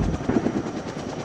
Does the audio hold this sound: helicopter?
yes